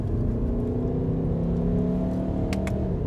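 A Skoda Kodiaq RS SUV with a seven-speed DSG gearbox and four-wheel drive moves through corners with a steady, humming engine drone and a layered whir from the drivetrain, heard from inside the cabin at an even level.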